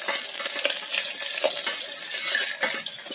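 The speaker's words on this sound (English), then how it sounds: "Fry until the onion turns light brown color." Onions, garlic, cumin seeds and red chili sizzle in oil inside an electric kettle, a loud, close crackle with irregular stirring clatter from a utensil against the pot.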